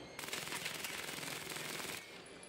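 Rapid automatic weapon fire from a video game, a dense, continuous burst lasting about two seconds before cutting off, fairly faint and heard alone.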